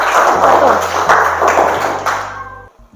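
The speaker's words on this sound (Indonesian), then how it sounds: "Kita beri tepuk tangan untuk yang kelompok 1" Classroom applause for a student group, a burst of many hands clapping together that fades out at the end, with a low background hum beneath.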